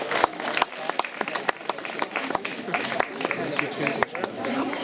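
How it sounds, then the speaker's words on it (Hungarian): An audience at a ballet school performance applauds a young ballet dancer, with dense, steady clapping from a crowd, sharp individual claps poking through, and voices talking over it. "egy nagy tapsot az ifjú hölgynek"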